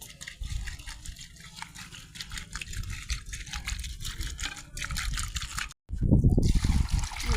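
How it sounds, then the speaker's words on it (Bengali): Cut fish being washed by hand in water, with continuous trickling and sloshing, a brief pause, then a louder splashing burst close by. "আমি ভালো করে মাছগুলো ধুয়ে নিচ্ছি"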